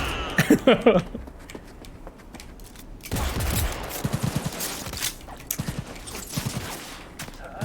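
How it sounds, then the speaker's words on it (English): Enemy gunfire in the video game Cyberpunk 2077, a cluster of sharp shots early on, then louder bursts of rapid fire and scattered single shots over background game sound. "Who the fuck is shooting me?"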